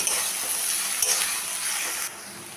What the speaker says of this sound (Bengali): তেলটা গরম করে নিলাম দিয়ে দিলাম পেঁয়াজ কুচি পেঁয়াজটাকে একটু ভেজে নেব